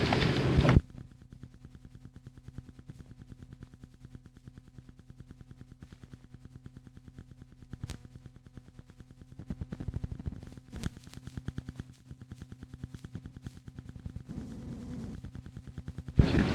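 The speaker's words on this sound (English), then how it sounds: "banging on a speed limit sign" A stick banging on a metal speed limit sign, sharp rapid metallic strikes repeated in a steady ringing patter for over fifteen seconds, with a few louder hits and no voices over it.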